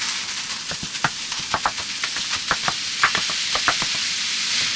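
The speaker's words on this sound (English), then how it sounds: "you should hear it sizzle when it's already hot" Meat crackles and spits in a hot pan, with irregular sharp pops and stirring scrapes over a steady frying hiss, close and moderately loud.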